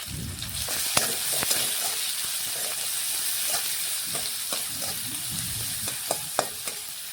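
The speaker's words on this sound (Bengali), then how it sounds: "এখন পেঁয়াজ একটু নাড়াচাড়া করে লাল লাল করে ভেজে নেব।" Chopped onions fry in oil with dried red chillies and whole cumin, sizzling steadily while a spoon stirs and scrapes the pan in repeated sharp clicks, close and moderately quiet.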